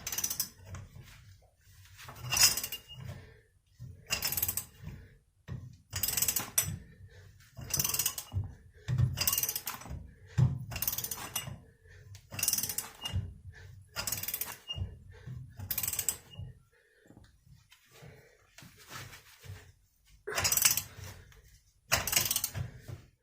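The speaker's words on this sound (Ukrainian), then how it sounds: "Нарешті я відкрутив цей болт." A rear hub bolt on a 2009 Seat Altea is worked loose with a ratchet, the hard clicking coming in repeated bursts of strokes separated by short pauses over about twenty seconds, close up and with no talking.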